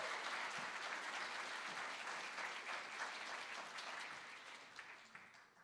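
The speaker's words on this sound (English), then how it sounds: "How about a round of applause, even though he's not even here?" At a high school senior awards night, an audience applauds in a dense, even burst of clapping that gradually thins and fades toward the end.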